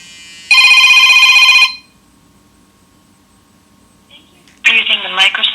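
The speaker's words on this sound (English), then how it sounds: "you will receive a phone call from Microsoft to make the verification call" A Microsoft verification phone call comes in as a loud electronic ring burst lasting about a second, then quiet, followed by an automated voice starting to speak.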